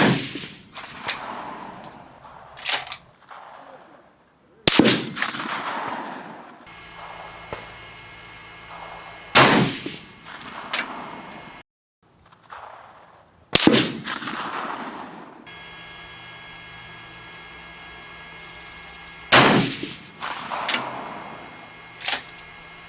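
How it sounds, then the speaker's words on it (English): Ten rifle shots with custom hand-loaded 7.5x55 Swiss ammunition, fired one at a time with pauses of a few seconds between them. Each report is sharp and loud, and the quiet gaps between shots are filled by outdoor background noise. "that's my 10 shots with my custom loaded ammunition"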